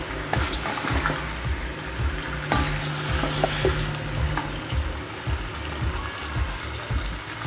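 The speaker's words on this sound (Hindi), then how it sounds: "चिकन हमारा अच्छे तरीके से फ्राई हो रहा है, कलर बदलना शुरू हो गया" Chicken pieces frying in hot oil in a karahi, a loud, steady sizzle close by, broken by repeated low knocks and scrapes of stirring, with no talking.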